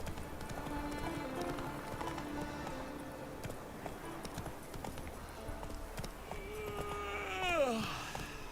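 Geralt's horse Roach clip-clops at a steady gallop in The Witcher 3, hoofbeats running continuously under game music and ambience, with a brief whinny-like flourish near the end.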